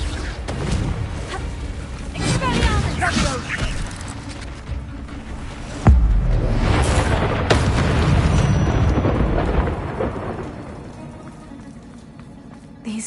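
A Confringo fire spell bursts in Hogwarts Legacy during a fight with spiders, with loud booming blasts and crashes, one sharp impact partway through, then a rumble that fades.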